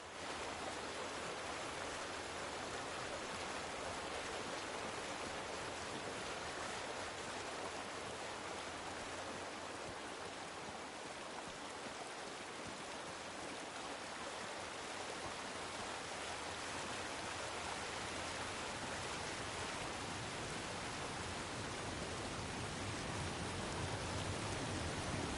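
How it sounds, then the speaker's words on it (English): A babbling brook in a PlayStation 4 video game gives a steady, unbroken rush of water noise, soft and even throughout with no voices. "Enjoy your brook."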